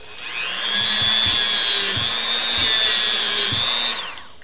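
Small Dremel rotary tool spinning a stainless steel wire brush against aluminum parts from a 1973 Honda CB750, a steady high whine with rhythmic scratching pulses over about four seconds, close and alone.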